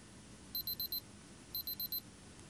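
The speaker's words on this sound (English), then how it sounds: "My timer goes off" A timer alarm beeps in two quick bursts of four shrill, evenly spaced tones, separated by a short pause over a faint, quiet room background.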